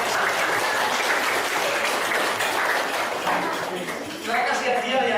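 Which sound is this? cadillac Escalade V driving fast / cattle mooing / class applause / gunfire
class applause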